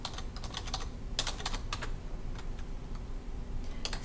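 Typing on a computer keyboard, quick irregular clusters of light key clicks close by, pausing briefly between bursts over a quiet room hiss.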